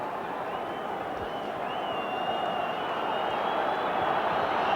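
Burnley supporters applaud in a packed Wembley crowd during the 1994 Division Two play-off final against Stockport County, a steady roar of clapping and crowd noise that holds throughout, with a faint whistle-like tone drifting over it.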